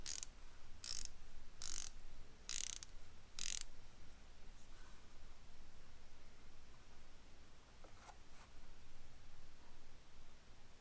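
A Craftsman 8mm ratcheting combination wrench clicks in five quick, crisp bursts close by, followed by quiet and a couple of faint taps.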